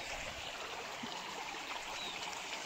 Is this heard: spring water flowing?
yes